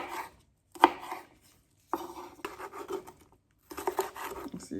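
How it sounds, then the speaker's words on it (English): A knife taps and scrapes on a chopping board in short, irregular bursts as mango salsa ingredients are cut, with brief quiet gaps between strokes, close and fairly soft. "as I'm chopping, seeds are just flying off all over from the chopping board"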